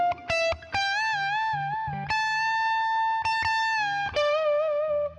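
Overdriven electric guitar plays a lead riff with effects, notes bent up, held and released, then picked on, sustained and fairly loud with short attack clicks, alone without talk.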